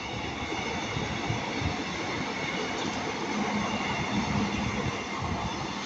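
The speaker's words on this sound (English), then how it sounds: "we're going to have a Northern Class 150 going to Manchester Piccadilly from Buxton" A Northern Class 150 diesel unit running from Buxton to Manchester Piccadilly rolls past at Ardwick, a steady, loud, broadband roar of wheels and rail noise sustained throughout with a faint squeal, no voices.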